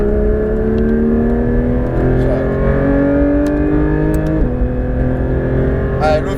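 Engine of a Porsche 991 GT3 RS pulls hard on a race circuit, a loud rising whine climbing steadily through the revs with a brief dip at a gear change, heard from inside the car with an instructor talking over it.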